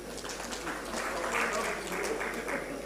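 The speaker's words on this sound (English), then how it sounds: "A big round of applause for him." A conference audience gives a round of applause, a moderately faint, continuous patter of clapping with some room murmur and voices mixed in.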